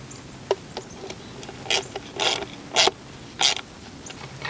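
Ratchet clicks in short bursts while a new aftermarket exterior light is fastened to its bracket on a C5 Corvette, a few quick close mechanical rasps with pauses between them.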